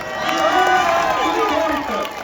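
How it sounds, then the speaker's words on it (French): Spectators cheer and applaud as cyclists near the finish of the elite criterium in Concarneau, a loud sustained crowd roar with shouting across the whole stretch and a commentator's voice mixed in. "Je crois qu'on peut les applaudir bien fort."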